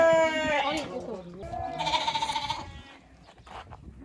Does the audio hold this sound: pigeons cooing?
no